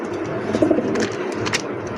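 A pair of racing pigeons coo softly, with a few low, throaty coos over a quiet, steady background hum and no talking.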